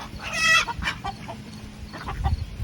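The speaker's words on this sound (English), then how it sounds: "the chickens are fighting with each other" Several chickens squabbling in a backyard pen, with a sharp harmonic squawk up front followed by scattered clucks and scuffling, close and moderately loud.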